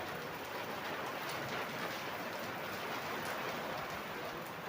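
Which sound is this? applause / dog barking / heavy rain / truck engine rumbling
heavy rain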